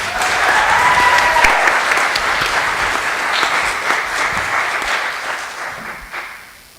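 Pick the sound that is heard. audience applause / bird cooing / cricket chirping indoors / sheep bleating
audience applause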